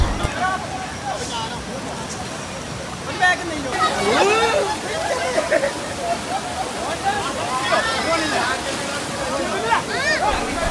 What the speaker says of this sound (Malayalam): അത്യാവശ്യം നല്ല ഒഴുക്കുണ്ട് കേട്ടോ